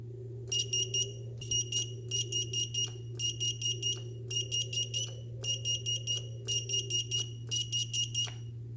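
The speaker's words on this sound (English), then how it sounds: "I'll go ahead and play the normal regular buzzer sound first." Rapid electronic quadcopter buzzer beeps in short clustered bursts, a steady repeating pattern of high-pitched chirps over a low constant hum.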